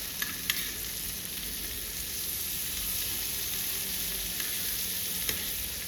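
Chicken kaul fries in a generous amount of butter, a steady, bright crackling sizzle heard close up throughout with a few faint clicks of stirring, no voices.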